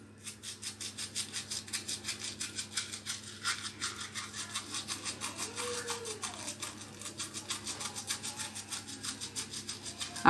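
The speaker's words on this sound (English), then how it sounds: "you're going to scrub your teeth in an upward, downward motion" Toothbrush scrubbing teeth in an up-and-down motion, rhythmic close bristle strokes repeating steadily for about ten seconds, with no talk.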